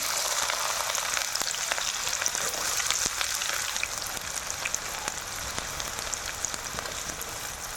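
Onions sizzle steadily in hot oil in a pan while cooking a raw prawn and cashew curry, a continuous close crackling hiss with no talk.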